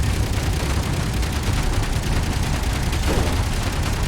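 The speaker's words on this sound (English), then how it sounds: "let's start firing on that bastard and see when we finally start hitting stuff" Spaceship weapons in Space Engineers firing at pirates, a dense continuous barrage of heavy booming shots that stays loud and steady throughout with no pauses.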